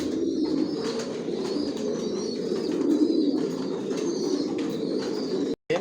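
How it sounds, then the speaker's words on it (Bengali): Racing pigeons coo steadily in a loft in a soft, continuous chorus, with a few faint chirps and clicks over the low warbling. "আমার লফটের সব কবুতর বর্তমানে সুস্থ সবল ভালো আছে"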